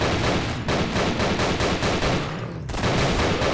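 Rapid automatic gunfire from a weapon in the video game Nightmare House 2, a loud continuous burst of shots that breaks off briefly near the end and then resumes, with no talking.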